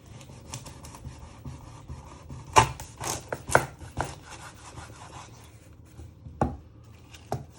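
A knife chops food on a cutting board while making ravioli: scattered close taps and thuds, a few sharp strikes standing out, irregular in rhythm, with no talking.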